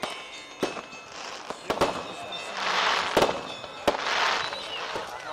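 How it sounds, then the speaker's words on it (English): Scattered sharp firework pops and crackles burst at irregular intervals, with hissing sprays in between, heard from a moderate distance outdoors. "and there's a small fireworks display."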